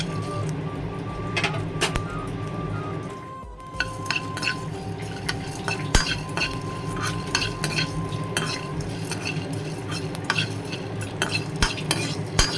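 Spices dry roasted without oil in a pan, stirred continuously with a spoon, giving close scraping and light clinks over a faint low hum.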